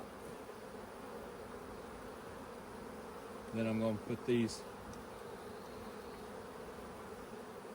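Honey bees buzz in a steady low drone while being shaken out of hive frames during a split, swelling briefly louder for about a second, with someone talking nearby.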